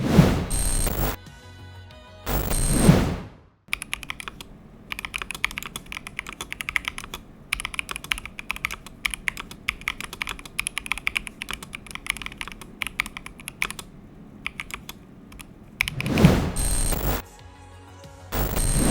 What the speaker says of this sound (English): Let's do a quick sound test on this keyboard.